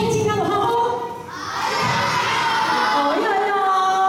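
A group of children at a Chinese-speaking youth troop gathering shouts their team cheer in unison, loud, close and excited with rising whoops, mixed with crowd noise and a brief lull partway through.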